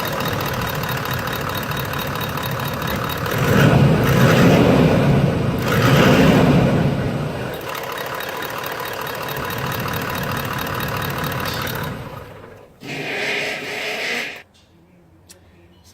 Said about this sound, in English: We'll just start the vehicle up, give it a few revs to double check everything's okay